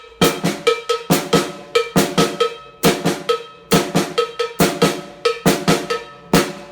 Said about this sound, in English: If we had the cowbell, the snare, and the hi-hat, it sound like this.